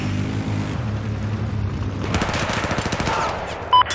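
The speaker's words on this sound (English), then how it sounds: "there is a hostile machine gunner" Machine gun fire in Battlefield 4 rattles in a rapid, rhythmic burst over a low rumbling battlefield backdrop, fairly close and loud, with no voices.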